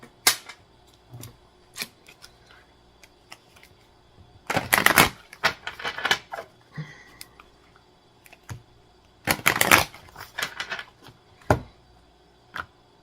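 Gaia oracle cards being shuffled in bursts, with two dense riffling flurries around the middle and end, scattered crisp clicks and taps between them, close and fairly loud with no talking.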